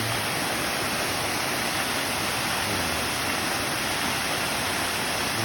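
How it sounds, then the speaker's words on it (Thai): Thung Na Mueang waterfall in Khong Chiam, Thailand, a loud, dense, unbroken roar of falling water filling the whole scene with no voices. "แล้วน้ำตกทุ่งนาเมือง"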